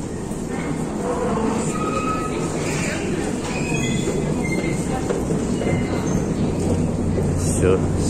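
A Moscow metro train rumbles through Savelovskaya station, a steady rolling roar with occasional metallic squeals and clanks, loud and close throughout, with voices faintly beneath it.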